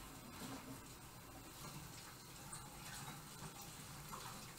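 Tap water running steadily to rinse off a bag, a continuous soft gushing splash that stays even throughout, fairly faint and with no voices.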